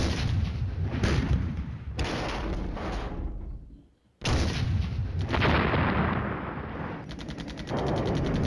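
Loud, dense gunfire and artillery explosions from the Flashpoint Campaigns: Red Storm war game, with a Soviet tank rush against NATO forces, roar almost continuously, broken only by one brief drop before the barrage resumes.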